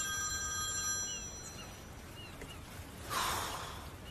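A telephone rings with a bright, steady electronic tone for about a second and a half, then fades into quiet room noise, followed by a short breathy sound.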